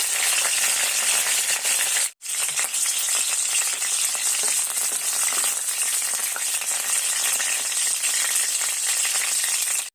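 Chana dal, urad dal, mustard seeds and curry leaves sizzle hard in hot oil: a loud, continuous crackling hiss with tiny pops, broken once by a brief silence early on.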